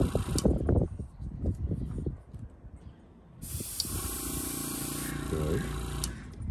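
An airbrush sprays paint onto a model car in short hissing passes, close and fairly quiet, with an instructor talking between and over the bursts.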